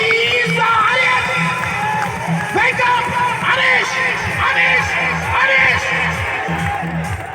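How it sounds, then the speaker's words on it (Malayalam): A crowd cheers and shouts throughout a tug-of-war final in Kasaragod, with a dense, continuous roar and repeated bursts of whoops from many people close by. "കൈയടിക്ക് പ്രിയപ്പെട്ടവരെ"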